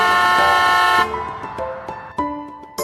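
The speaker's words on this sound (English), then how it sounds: "The big yellow bus has room for everyone. Honk, honk." A loud, sustained bus horn blast cuts off, followed by a few shorter honks spaced apart, near and bright.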